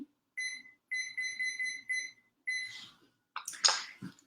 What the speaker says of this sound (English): So I'm going to put the timer on just so you can see.